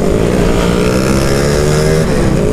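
An FKM Slick 150 motorcycle engine runs steadily at close range, a loud, continuous droning hum with a slight pitch drop near the end and no talk.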